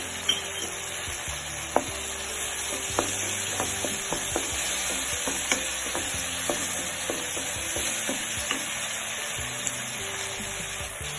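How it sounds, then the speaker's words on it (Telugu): Ginger garlic paste frying in a pan for a gongura egg curry, a steady soft sizzle with repeated stirring clinks and scrapes throughout, close by and with no talking. "ఇప్పుడు అల్లం వెల్లుల్లి పేస్ట్ వేసుకోవాలి."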